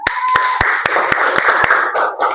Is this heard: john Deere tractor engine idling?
no